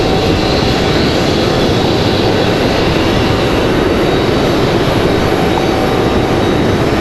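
An American Airlines Boeing 737 airliner at Raleigh Durham airport produces a loud, continuous broadband engine roar that stays steady and close for the full stretch, with no voices.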